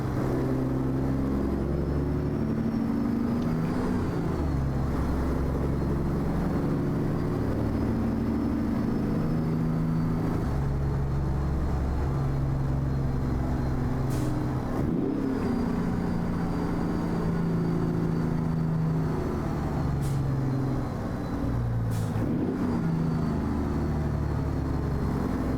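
A Kenworth W900 truck with an upgraded engine and a 13-speed transmission drives in American Truck Simulator, giving a loud, continuous low engine drone with shifting pitch and faint higher tones.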